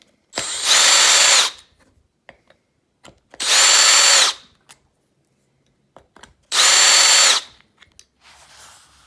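A power drill takes apart the rear end of an Arrma Talion 6S RC car in three separate high-pitched whirring bursts of about a second each, evenly spaced, with quiet gaps and small clicks of handling between them.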